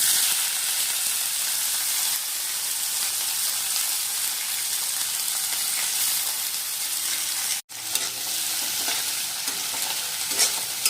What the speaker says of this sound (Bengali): আর এখন এর মধ্যে আমি দিয়ে নিচ্ছি আগে থেকে একটা মিডিয়াম সাইজের পেঁয়াজ কুচি করে রেখেছিলাম সেটা